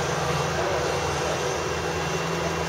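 Loud, steady broadband engine roar of an airplane on the Disney's Hollywood Studios Backlot Tour set, a continuous drone filling the short clip without pause and with no talking.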